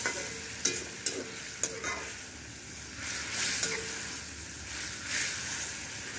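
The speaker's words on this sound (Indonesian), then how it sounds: "daun salam saya masukkan. Digongso dulu sampai airnya agak habis." Spices and bay leaves stir-fry in a pan until the liquid cooks down for a Cap Go Meh dish, a steady sizzle with a few sharp scrapes of a spatula near the start.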